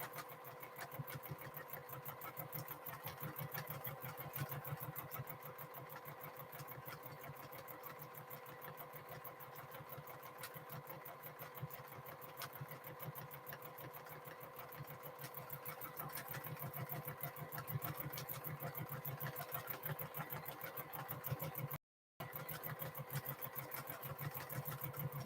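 A sewing machine runs steadily while quilting a tote bag, white thread on blue fabric, a continuous even hum with a fast mechanical chatter throughout, broken by a brief dropout near the end.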